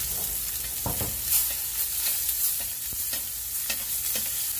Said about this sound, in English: What I'm doing is I'm basting it.